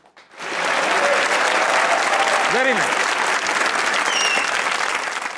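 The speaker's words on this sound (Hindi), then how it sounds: "तो बजाइए तालियां" Studio audience applause on a Pakistani comedy talk show, a dense sustained clapping wash that rises quickly and carries on steadily and loudly, with a brief whistle and a short spoken remark over it.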